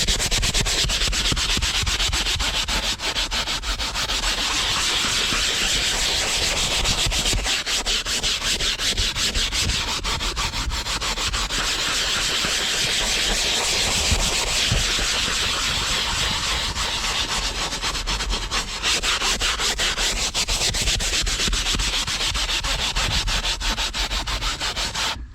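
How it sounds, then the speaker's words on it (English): A brush scrubs wet upholstery fabric to lift stains with a loud, close, rhythmic rubbing. Strokes sweep back and forth in repeating waves for about twenty-five seconds, with no talking. "Grab the brush and basically just scrub."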